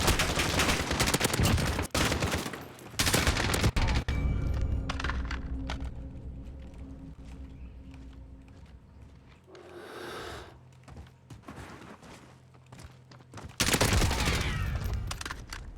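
Gunfire rings out in a Call of Duty Warzone match, with dense bursts of automatic fire up close at the start, a quieter stretch with a brief sound near the middle, and another loud burst near the end.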